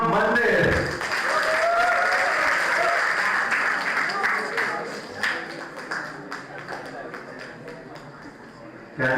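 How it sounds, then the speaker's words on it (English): An audience at a school event applauds in an even, sustained roar. It fades gradually to scattered claps with some talk mixed in, then swells briefly right at the end. "Can we have a great round of applause for Bal Mohan Vidya Mandir?"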